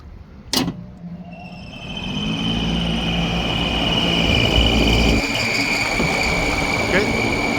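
A repaired Lennox packaged rooftop unit's fan kicks on with a click, then spins up into a loud, steady motor hum with a high whine and some rattle from the rain cap.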